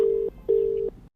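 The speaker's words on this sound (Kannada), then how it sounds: "ಒಂದ್ ನಿಮಿಷ ಇನ್ನೊಂದ್ ನಂಬರ್ ಐತೆ ಮಾಡ್ತೀನಿ ರೀ" A telephone ringback tone plays after a number is dialed on a prank call. Two steady, mid-pitched electronic beeps are separated by a short gap, clean and close, with no talking.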